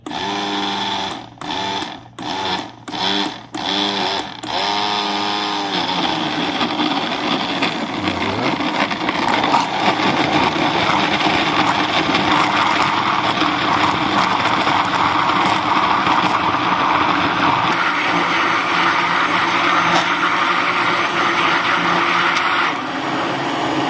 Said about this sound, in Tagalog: At i-blend na natin.